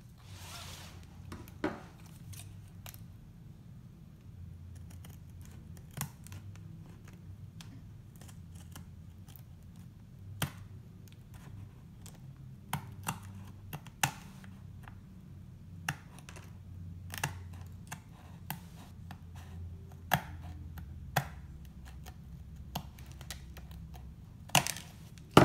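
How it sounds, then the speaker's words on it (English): Scissors cut paper for a handmade notebook book cover, giving quiet, sparse snips and crisp clicks at irregular intervals over a faint low background hum. "So let's start cutting."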